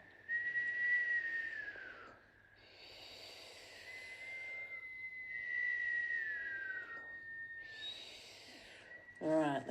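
Breath drawn in through puckered lips during Kundalini yoga practice, producing a thin airy whistle; several long whistled inhales follow one another with short pauses, close and steady.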